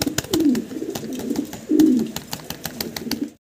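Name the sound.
pigeons cooing at a pigeon farm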